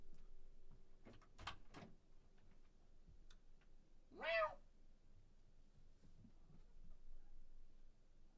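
A single cat's meow rising clearly in a quiet room, preceded by a few soft clicks and taps, faint background otherwise.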